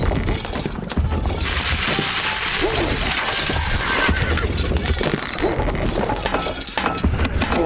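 A horse whinnies in the Stronghold Crusader strategy game, its neigh rising briefly amid a dense bed of clanking, ratcheting mechanical game sounds.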